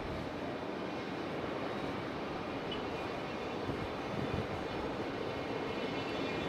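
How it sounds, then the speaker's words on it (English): A Spirit Airlines airliner arriving at Raleigh-Durham from Fort Lauderdale gives off a steady, broad jet roar, even and sustained with no voices. "Got our banana Spirit Airlines coming in from Fort Lauderdale"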